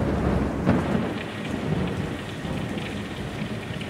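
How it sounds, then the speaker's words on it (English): Heavy rain pours steadily over Cape Canaveral, Florida, in May 1961, a continuous close hiss of rainfall with a deep thunder rumble swelling early on beneath the downpour. "Rain's pouring down on Cape Canaveral."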